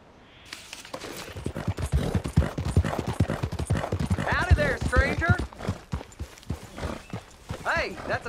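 Horse hooves clip-clop steadily in Red Dead Redemption 2, close and rhythmic, with speech and game dialogue running over them throughout.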